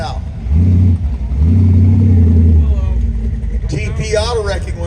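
A 1929 Ford sedan delivery hot rod with a 289 Ford engine idles and revs nearby at a car show, its low rumbling engine note rising and falling under a loud announcer's voice.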